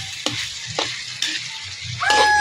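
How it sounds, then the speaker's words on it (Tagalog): Menudo stirred in a pan with Del Monte tomato sauce, a soft simmering sizzle under a few distinct scraping knocks of a spoon against the pan, ending with a squeak. "Yan, haluin lang natin ng maigi guys para hindi dumikit."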